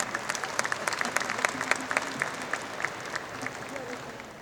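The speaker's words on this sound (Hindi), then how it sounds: "आपने मेरे सम्मान में बहुत ज़बरदस्त तालियां बजाई हैं" Audience applause at a cultural poetry gathering, a steady, moderately distant patter of many hands clapping throughout, with a faint voice underneath.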